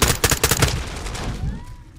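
Rapid bursts of automatic gunfire crack from Call of Duty: Modern Warfare II in close, loud volleys during an office firefight, then thin out into a lighter tail of game sounds.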